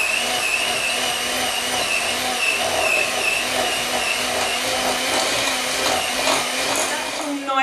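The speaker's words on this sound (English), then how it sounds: "now I'm just going to whisk these together" An electric whisk creams butter and coconut sugar in a bowl, a loud, steady motorized whir that runs unbroken throughout.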